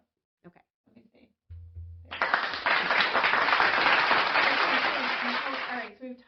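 Audience applause breaks out after a short spoken line, a dense burst of clapping that builds quickly, holds steady for several seconds, then cuts off.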